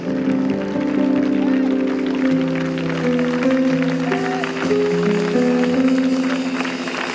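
A church congregation cheers and claps with a steady wash of applause under loud, sustained singing and music, with voices throughout.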